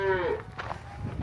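Cattle moo on a ranch in the Wah Wah Mountains of western Utah, where much of a 1,200-head herd is corralled; one drawn-out low call opens, followed by fainter bellows and shuffling under a murmur of background noise.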